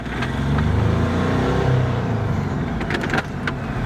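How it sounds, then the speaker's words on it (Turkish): A Hyundai Accent 1.5 diesel car drives on a road test, its steady engine drone and road rumble close and continuous throughout, with a brief lighter rattle near the end. "Test sürüşü için işletmemizden ayrıldık. Aracı test edeceğiz."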